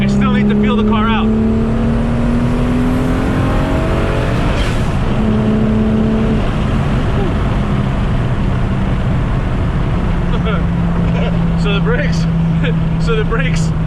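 A widebody Audi S4 with a big-turbo VR6 making over 750 wheel horsepower is driven hard. Its engine drones loud and close the whole time, with revs climbing and shifting in pitch.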